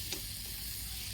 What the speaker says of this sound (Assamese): দুয়োটা ধুনীয়াকৈ অলপমান সময় ভাজিম